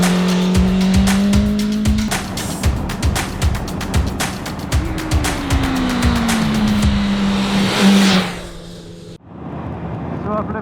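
A 2019 BMW S1000RR motorcycle is ridden on the road, its engine note climbing hard under acceleration through several gear changes and rising revs, loud and close, before dropping away near the end.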